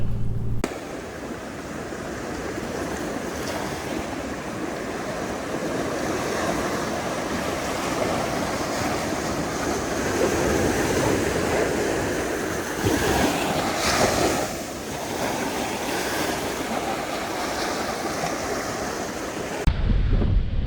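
Waves break and wash steadily on a beach on the Exmouth coast, a loud, broad, continuous surf roar with wind buffeting the microphone throughout and no speech.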